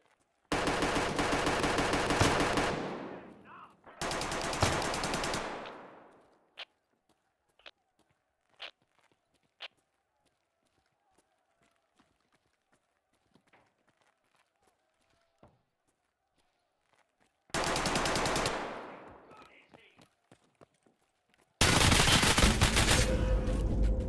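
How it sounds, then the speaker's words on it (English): Loud shotgun blasts from a video game come in a few long, heavy bursts separated by near-silence with faint clicks and taps, the last blast cutting in sharply at the end. "Just shooting a shotgun and shit, yo."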